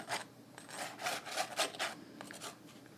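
A palette knife scrapes glittery acrylic paint across a palette in a series of soft, rhythmic rasping strokes, quiet and close with no talking.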